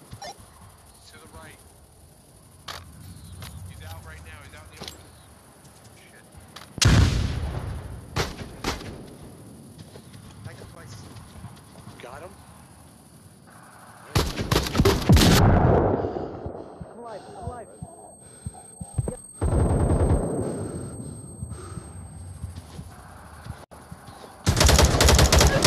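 Gunfire in the Onward VR military shooter breaks out in several loud bursts amid ongoing voice chat, with quieter stretches of background noise between volleys.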